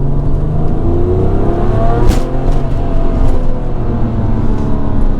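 A remapped Porsche 996 Turbo running about 1 bar of boost accelerates hard, its engine drone rising steadily in pitch, loud and close throughout with no talking.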